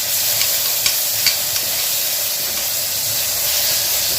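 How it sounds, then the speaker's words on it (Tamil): Ginger garlic paste sautéed with onion and tomato in a pan for a goat intestine fry gives a steady, close sizzle and hiss, with a few faint clicks of stirring and no voices. "வாசனை போகிற வரையும் நல்லா வதக்கிக்கலாம்."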